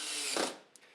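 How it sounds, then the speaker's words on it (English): Cordless driver sinking a screw to fasten a sign top onto a 2x4, a short whirring burst with a faint click after, close and quiet. "So now I'm going to attach the top of the sign to the 2x4 with"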